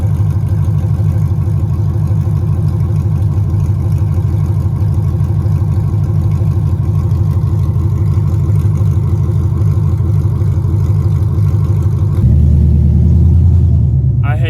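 A Dodge Scat Pack's 6.4 Hemi with a stage 1 cam runs on open headers, a loud, steady, choppy idle rumble close by that shifts into a deeper, heavier drone near the end.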